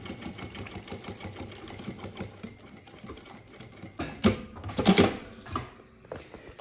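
A sewing machine stitches a bag in steady rapid bursts, with a short reverse backstitch at the ends, close and moderately loud with no talking.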